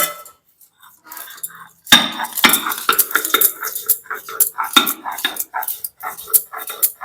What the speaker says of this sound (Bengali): একেবারে বেটে নেব সুন্দর করে হাতে বেটে নেবো